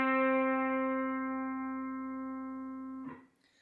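A single sustained electric or acoustic guitar note rings out with steady pitch and no vibrato, holding evenly and slowly fading for about three seconds before a brief rustle at the end.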